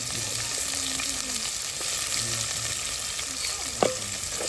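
Onions frying in oil until golden, for a chicken curry cooked at night: a soft, continuous sizzle heard close but quietly, over a faint steady hum, with one brief knock near the end.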